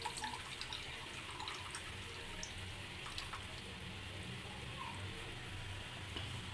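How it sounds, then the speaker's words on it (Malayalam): Tamarind water trickles into a ginger curry, a faint, steady liquid pour against a quiet kitchen background with no talking. "ആ വെള്ളം ഒഴിക്കാം നമുക്ക്"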